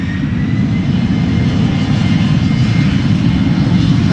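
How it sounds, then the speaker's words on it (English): KLM airliner on flight to Luxembourg departing Amsterdam Schiphol Airport, a loud, close, continuous engine roar with deep rumble dominating throughout. "This is KLM flight 1711 to Luxembourg."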